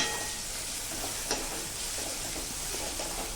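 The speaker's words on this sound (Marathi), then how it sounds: "हे बघा कांदा छान परतला जातोय" Chopped onion sautéing in a pan for a spicy onion-tomato sabji, a soft, even sizzle throughout with one brief clink partway, faint and close; no talking.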